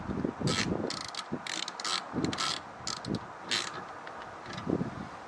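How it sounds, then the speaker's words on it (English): A small ratchet clicks in quick bursts while tightening a universal license plate bracket on a right-hand-drive car, its rapid pawl clicks coming in several close, loud runs with light handling noise between. "having a small ratchet can kind of be convenient, just so you can put it behind there and then just tighten it up like this"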